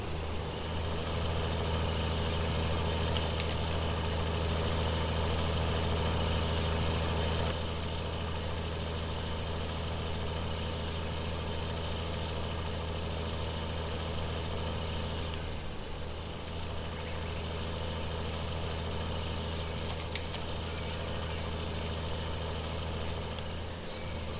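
A Case IH Magnum tractor engine runs steadily throughout with a loud, continuous low rumble and a slight shift in tone partway through, heard close with no talking.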